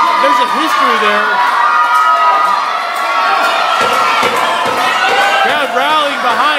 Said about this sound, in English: Crowd rallying behind Biggie Biggs.